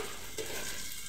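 Taro stolon curry (kochur loti chorchori) with coriander leaves and chilli slices being stirred in a pan, a brief soft sizzle with a faint scrape.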